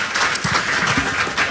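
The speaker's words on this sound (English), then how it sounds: "Let's give Kay a round of applause" Short burst of applause from an audience at a weekly Gopher football show honoring Kay McCreevy, a dense patter of clapping heard close and fairly loud with no talking over it.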